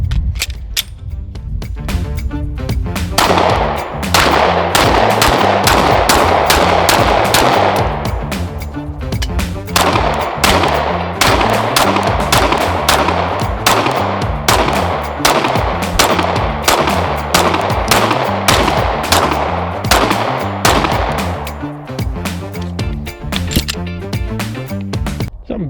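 A Lone Wolf Dusk 19R pistol firing on a shooting range, with loud, sharp gunshots fired in rapid succession throughout, some shots closely spaced and others separated by short gaps, over faint outdoor background noise.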